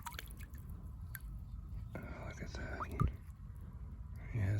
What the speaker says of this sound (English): See if I can make it down here and give this guy a little rinse off.